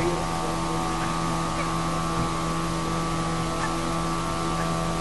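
A boat engine on a lake in the Lake District, a steady, close droning hum with a constant tonal whine running throughout, unchanging in loudness, no talking.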